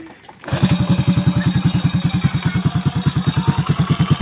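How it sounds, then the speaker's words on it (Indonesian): A Honda Astrea motorcycle engine being tested after a restoration starts up after a short silence and settles into a loud, close, rhythmic idle with a steady chugging pulse and light mechanical clatter. "Kita tes dulu ya untuk mesinnya."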